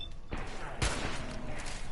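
Gunfire in the video game Fallout 4, a dense burst of shots with one loud, sharp blast near the middle over a steady background of combat noise.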